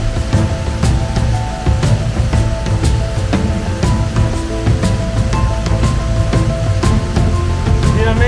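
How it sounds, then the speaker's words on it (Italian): The Cenghen waterfall beside a lake pours in a loud, steady rush of falling water heard up close, with scattered splashes and clicks on top. "la cascata."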